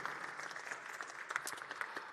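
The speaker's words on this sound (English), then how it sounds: "One more time, a big round of applause for Chang Liu." A conference audience at a tech event applauds a speaker, a brief burst of many hands clapping, fairly soft and distant, with a few louder claps and whoops standing out near the end.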